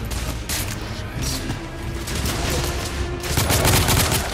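Bursts of incoming gunfire in the video game The Order, loud volleys of rapid shots coming in waves with brief lulls between them, swelling louder toward the end, with no voices.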